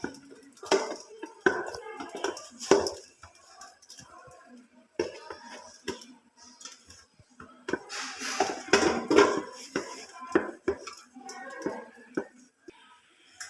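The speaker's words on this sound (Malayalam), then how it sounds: "ഇതിലോട്ട് ഞാൻ കുറച്ച് എള്ളും കൂടെ ചേർത്ത് കൊടുക്കുന്നുണ്ട് ഇതെല്ലാം കൂടെ നല്ലതുപോലെ ഒന്ന് മിക്സ് ചെയ്യും" A spoon scrapes and clinks against a bowl while dough ingredients with sesame seeds are mixed, giving irregular close scraping and tapping strokes with quiet pauses between.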